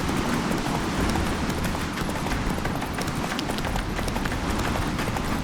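Roach, Geralt's horse in The Witcher 3, gallops hard, hooves pounding in a fast, continuous rhythm under wind and movement noise.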